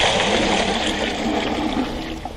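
Measured water pouring into a mortar powder mix, a steady continuous splashing stream close by with no talk.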